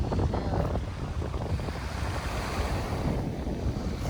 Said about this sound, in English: This is Sunbay Beach.